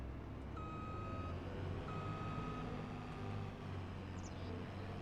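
A school bus backing up in Farming Simulator 25 gives steady, evenly spaced high reversing beeps over a low engine idle and road hum, heard clearly and moderately close with no talking.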